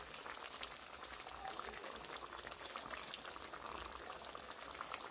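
Food bubbling in a cooking pot, a steady close seething boil with crackling bursts running throughout, no one speaking.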